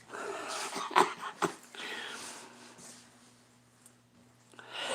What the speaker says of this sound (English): Keeper's barking at me for bones